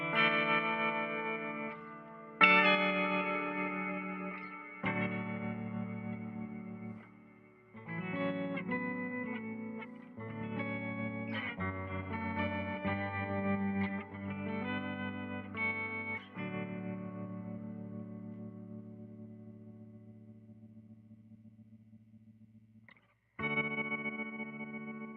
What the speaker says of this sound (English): So you've got the octave up and down coming through the tremolo and kind of flashing at you, and the dry signal sustaining in this reverb pedal.